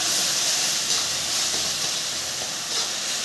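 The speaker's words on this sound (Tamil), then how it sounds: "நல்லா வதக்கி விட்டுக்கலாம்" Ginger garlic paste with ground onion and tomato sautés in a pan, giving a steady close hiss of sizzling with no pauses.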